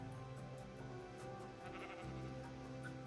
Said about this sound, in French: on a le mouton qui se trempe les pattes dans l'eau